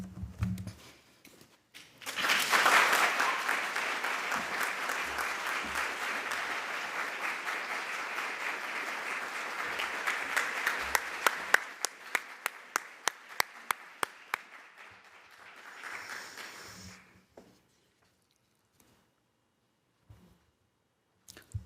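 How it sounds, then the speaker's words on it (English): Audience applause for honorees at the Cranbrook President's Award for Excellence ceremony, a dense burst of clapping that swells quickly, holds for about twelve seconds, then thins into scattered individual claps before fading out. "Let us give another round of applause for our honorees, Matt, Eric, Beth, Dick, and Lori."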